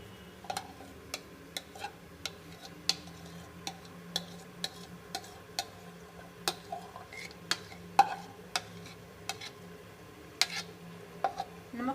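Marinated mutton with garlic, ginger and salt frying in melted ghee, a soft steady sizzle broken by regular sharp clicks of a spoon stirring against the pot, close up.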